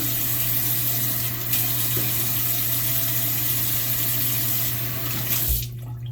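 A tap runs steadily to wet the skin before shaving, a loud, continuous splashing hiss that cuts off sharply near the end.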